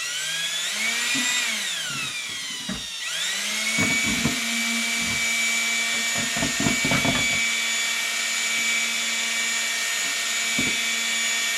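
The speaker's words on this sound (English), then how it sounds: "we'll take our drill and we'll go ahead and mix them up." Power drill mixing casting epoxy in a bucket whirs steadily with speed changes, winding down and revving back up, interrupted by brief knocks and scraping against the container.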